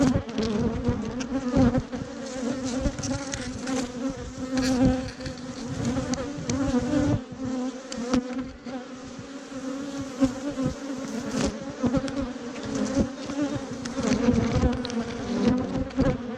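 A dense, steady buzzing of honey bees hovers around an open hive whose brood is clogged with pollen. The drone stays loud and close throughout, with individual bees flitting near and away in small swells.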